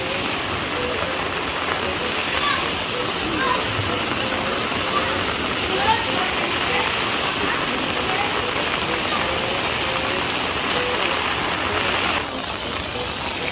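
Heavy, steady rushing water roars continuously, like a swollen flood current, with faint voices mixed into the wash.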